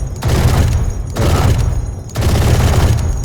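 Rapid automatic gunfire from a weapon fired while aiming down sights in Valorant, loud and close in sustained bursts with two brief breaks between them.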